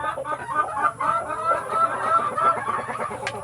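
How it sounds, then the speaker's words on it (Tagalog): Rhode Island Red chickens, including a rooster, cluck steadily in a busy coop, a dense overlapping chorus of short calls with a continuous background hum. "yan o, yung tandang yan."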